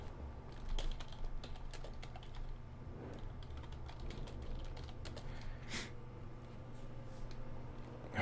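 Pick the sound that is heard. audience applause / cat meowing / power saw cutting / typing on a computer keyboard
typing on a computer keyboard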